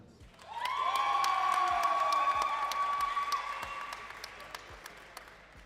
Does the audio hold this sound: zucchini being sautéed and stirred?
no